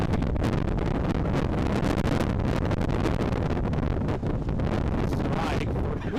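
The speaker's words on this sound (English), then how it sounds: "big gust right there" A strong gust of wind buffets the microphone at an outdoor college softball game between Ohio and Ball State, a loud continuous roar lasting several seconds, with commentary voices underneath.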